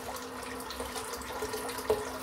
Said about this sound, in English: I'm just going to dip my hand in the water.